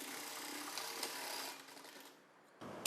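A sewing machine runs while stitching the neck edge of a cross-cut blouse, a faint steady whirring hum that fades briefly before resuming with a small click at the end.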